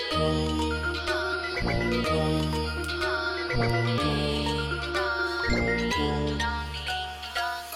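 Bright bell-like chimes ring out in a repeating melodic pattern over a low synth bass, a cheerful ding-dong jingle with no speech.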